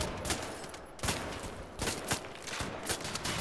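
Assault rifle fire in Wolfenstein: The New Order, a few sharp shots spaced out over a few seconds at moderate loudness, heard alone.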